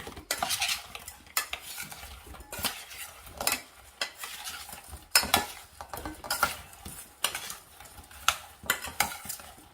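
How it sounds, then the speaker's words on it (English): Baby potatoes tossed with oil in a bowl give off a rapid run of close, loud clattering scrapes and knocks, repeating in uneven bursts with no talking. "And we're gonna just toss this around."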